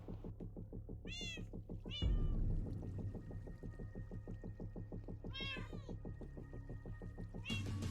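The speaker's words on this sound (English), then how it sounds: "I'm not certain if they ever noticed the cats in the wall." Several cats meow from inside a wall, calls recurring every few seconds over a steady low rhythmic throbbing background, with one louder thump partway through.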